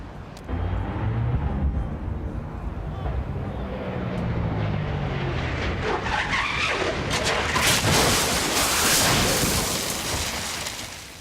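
In-car sound from an NHRA funny car at full throttle as it blows up and crashes, a continuous loud roaring rush with a shifting, descending whine and harsh skidding noise throughout, close and overwhelming.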